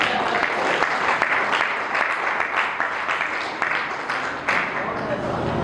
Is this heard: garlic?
no